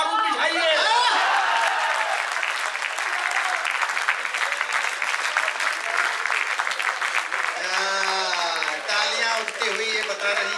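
A live comedy and poetry show audience breaks into sustained applause that swells and carries on for several seconds, with a voice beginning to talk over the clapping near the end.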